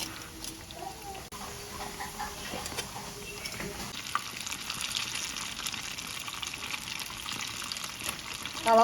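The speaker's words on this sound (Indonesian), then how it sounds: "Gorengnya pakai api sedang, cenderung kecil aja" Frying in oil over medium-low heat, a soft continuous sizzle and crackle with scattered pops, fairly quiet and close, with no talk over it.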